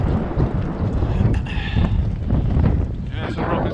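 Wind rushes across the microphone while cycling outdoors on a chilly road in South Africa, a loud continuous roar with gusty swells and no clear speech.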